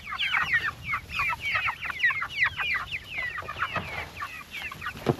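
Chickens in a movable chicken tractor cluck busily and continuously, a dense overlapping flock chatter close by with no talking.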